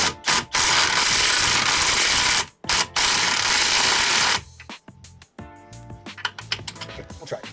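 A breaker bar cranking a bolt tight on a 1998 V6 SN95 Mustang drift car build, giving loud, close bursts of rapid ratcheting clicks broken by brief pauses, then lighter scattered mechanical clicks and taps.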